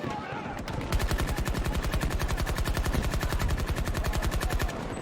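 Rapid, steady automatic gunfire from Battlefield 2042 hammers out a fast, even stream of shots for several seconds, loud and close, with no pause until it cuts off near the end.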